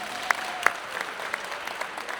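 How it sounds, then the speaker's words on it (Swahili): An audience at a Young Africans club meeting claps in scattered, fairly sparse applause with a few sharp distinct claps standing out over a faint background murmur. "Tumpigie makofi tafadhali"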